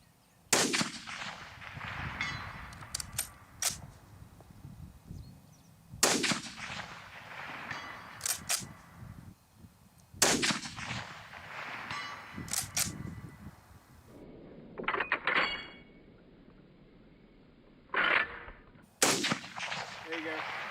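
A Swiss Model 1911 Schmidt Rubin infantry rifle fires 7.5x55mm rounds, five or six loud sharp shots spaced a few seconds apart outdoors, each followed by a rolling echo and faint handling clatter between.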